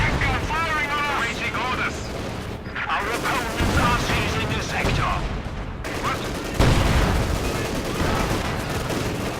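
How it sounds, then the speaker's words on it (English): Field guns fire repeatedly in a Company of Heroes 2 battle, with sharp booms and crackling gunfire layered through a dense, continuous wartime game soundscape while a commentator talks over it. "Field guns firing away there."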